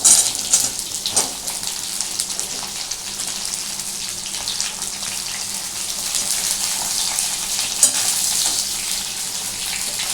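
Ridge gourd pieces fry in oil with a continuous bright sizzle and hiss, occasional stirring bumps, loud and close with no talk over it.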